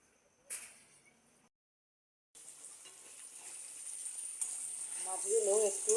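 Fish fries in a pan with a steady sizzle that grows louder and denser, after a short burst of clatter and a brief pause.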